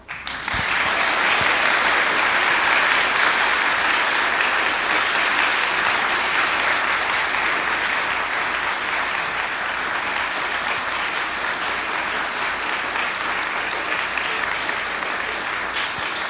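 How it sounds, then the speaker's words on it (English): An audience claps continuously for kindergartners at a flower communion service, a dense, loud wash of applause sustained without break for over fifteen seconds. "and now we clap"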